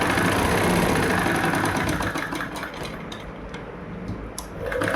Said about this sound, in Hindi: बारीक सिलाई मैं इसमें लगा रही हूँ